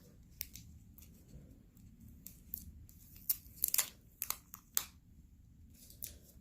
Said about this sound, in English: I'm going to cut the tape here off.